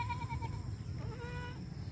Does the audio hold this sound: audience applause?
no